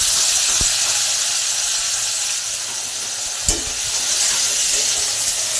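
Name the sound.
onions frying in oil with nigella seeds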